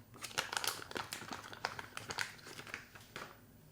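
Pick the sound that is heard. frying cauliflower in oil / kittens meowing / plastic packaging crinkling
plastic packaging crinkling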